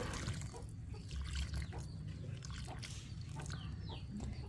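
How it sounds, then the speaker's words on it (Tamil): Water poured onto a potted strawberry plant, a steady trickling and splashing that runs throughout at close range, with low rumbling handling noise underneath. "இப்போ இதுக்கு நம்ம தண்ணி ஊற்றிக்கலாம்."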